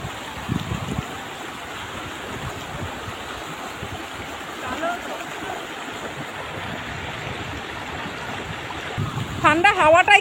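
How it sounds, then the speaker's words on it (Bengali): A river flows through Aru Valley near Pahalgam as a steady broadband wash of water, with a voice speaking over it and louder rustling near the end. "ওই সামনের দিকে একটা নদী বয়ে যাচ্ছে"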